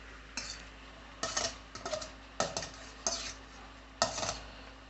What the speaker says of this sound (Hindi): वेजिटेबल्स को अच्छे से मिक्स कर लेंगे